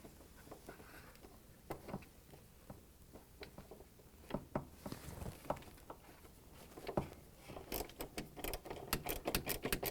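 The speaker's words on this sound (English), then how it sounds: "Now gonna use this 10mm socket wrench" A 10mm socket wrench tightens a nut on a Samsung DC47-00006P dryer heating element, giving soft, quiet ratcheting clicks in irregular bursts that grow quicker and denser toward the end.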